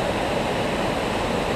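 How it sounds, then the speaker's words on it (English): Waterfall on Steel Creek running high, a dense, steady roar of falling water, close and loud, with no voices. "That's the falls."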